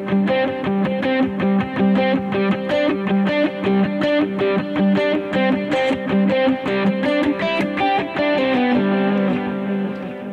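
Distorted electric guitar with a delay effect plays a rhythmic, repeating riff, notes smearing into one another with echoing repeats, loud and continuous without voices.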